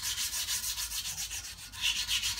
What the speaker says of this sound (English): just getting some sort of worn emery paper and just cleaning up that rough spot on the back here